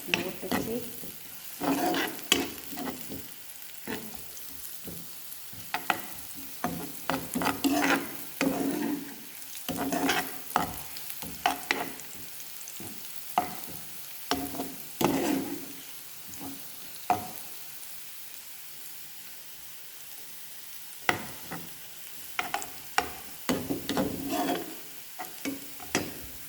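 Garlic fries in a pan for an egg and tomato dish, a low sizzle punctuated by frequent irregular stirring scrapes and taps, close, with stretches of quieter frying between bursts.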